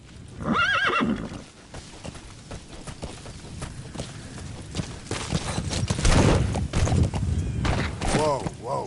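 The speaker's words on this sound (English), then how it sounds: "Use your horse." Horse in the video game Metal Gear Solid V whinnies loudly near the start, followed by steady clip-clopping hooves and a further neigh, with game sounds and other noise mixed throughout.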